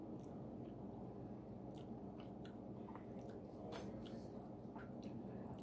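Close, crunchy chewing of an oatmeal walnut cookie, with repeated bites and munching sounds, steady throughout, no talking.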